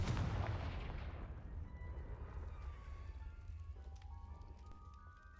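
A Confringo fire blast spell is cast in the Hogwarts Legacy game, a loud burst that opens the clip and then decays into a lingering crackling rumble, with faint chiming tones near the end.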